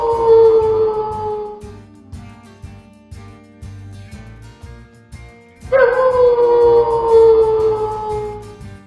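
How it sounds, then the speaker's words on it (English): A wolf howls in two long, wavering, tonal calls, the first fading out after about two seconds and a second, louder one rising partway through, both set over a steady rhythmic music bed in a children's animal-sound guessing game. "Wolf."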